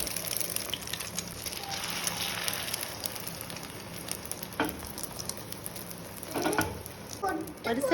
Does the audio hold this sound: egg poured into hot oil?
yes